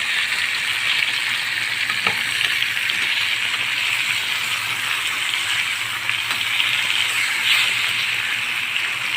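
Chicken pieces fry steadily in a pan of hot oil, giving a continuous bright sizzle and crackle at close range with a faint low hum underneath.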